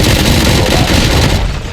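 Dense gunfire rings out in RoboCop: Rogue City, a continuous loud burst of overlapping shots and booms filling the scene for under two seconds before easing slightly at the end.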